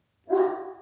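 A single close, sharp dog bark rings out against a silent background, brief and loud, with a slight tail as it fades.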